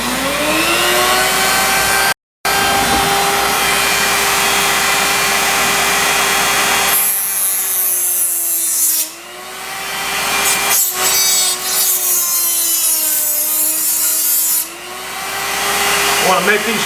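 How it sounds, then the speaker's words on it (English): Dremel rotary tool whittling wood while making a wood gas stove, a steady high-pitched motor whine with grinding, rubbing contact that dips and shifts in pitch as the bit bears into the wood, running continuously and close. "now I'm going to fix to start my Dremel up here"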